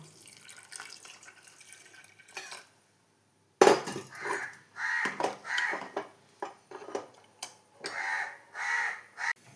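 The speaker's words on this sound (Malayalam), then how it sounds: "കാക്കവണ്ടങ്ങൾ കരഞ്ഞുകൊണ്ടിരിക്കണം" Several loud, harsh caws repeat in bursts, close by, after a short stretch of faint background noise and a brief silence.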